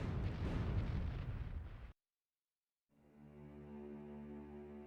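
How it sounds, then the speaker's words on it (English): A deep, rumbling depth charge blast against submerged U-boats roars loudly and abruptly cuts to silence, followed by a lower droning hum with a resonant, muffled tone. "depth charges spread out around the submerged boats and the lethal explosions that could burst the hull began"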